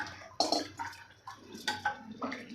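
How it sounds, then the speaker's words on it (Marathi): Water splashes in bursts as two glasses of it are poured into a Maharashtrian egg curry with black masala. The pouring comes close and moderately loud, with short gaps between the splashes. "इथे मी दोन ग्लास पाणी घेतलेलं आहे हे सगळं यामध्ये आपल्याला घालायचं आहे"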